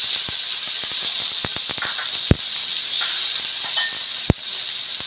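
Chopped capsicum sizzles in hot oil for a vegetarian chhana curry, a steady high hiss broken by scattered small pops and two sharper cracks, with no talking.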